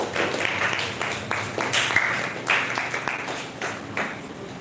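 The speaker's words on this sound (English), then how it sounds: "Please clap for her" An audience at a live event gives steady, fairly faint applause, a dense patter of many hands clapping without pause.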